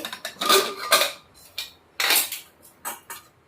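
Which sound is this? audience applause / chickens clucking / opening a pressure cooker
opening a pressure cooker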